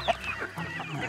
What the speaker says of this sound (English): Oh, you're feeding the chickens.